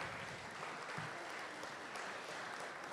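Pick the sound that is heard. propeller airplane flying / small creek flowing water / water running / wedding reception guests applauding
wedding reception guests applauding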